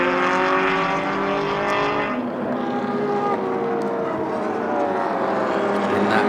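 A 1958 Porsche 356 and other production and GT race cars at speed at Sonoma, loud sustained engine drone with shifting pitch as cars pass, one note falling away then another rising.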